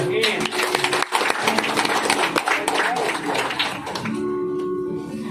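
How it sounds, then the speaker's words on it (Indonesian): An audience at a ceremony welcoming a young man into a Manado family claps in dense, crackling applause beneath a loud voice on a sound system, ending in a steady tone. "Kita tepuk tangan dulu."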